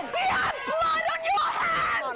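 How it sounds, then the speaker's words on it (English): Pigs scream for their lives inside carbon dioxide gas chambers, shrill and continuous, with a person talking loudly over them. "The sounds you hear now are pigs screaming for their lives inside carbon dioxide gas chambers"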